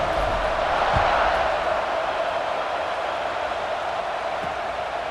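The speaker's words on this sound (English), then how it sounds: "this crowd is buzzing after that last score" A stadium crowd buzzes in EA Sports College Football 26 after a touchdown, a dense, steady roar of massed voices holding at an even level throughout, with no distinct cheers standing out.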